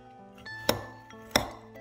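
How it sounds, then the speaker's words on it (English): Two clear clinks as a spoon strikes a bowl while stirring nuts and chocolate protein powder, spaced well apart and close by in a quiet room. "I want to give that a good stir up before I add my cream."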